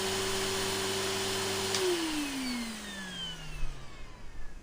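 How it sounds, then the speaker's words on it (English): A gravity vacuum cleaner in the video game Reverse 1999 hums with a steady motor whine that then drops in pitch and winds down as it switches off, with faint rustling near the end. "Can't even get them out with the gravity vacuum cleaner."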